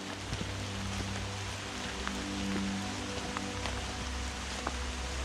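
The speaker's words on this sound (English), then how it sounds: "That rain's getting heavier." Heavy rain falls steadily at a forest campsite in Parkanaur Forest, a dense, continuous hiss of drops pattering on surfaces close by, with occasional louder individual drops and no voices.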